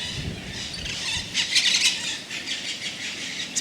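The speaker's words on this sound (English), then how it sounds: "These are all parrots. They're very loud." A flock of parrots calls loudly in a beautiful outdoor spot, with shrill squealing and chattering cries that overlap continuously and swell into a sharper burst midway.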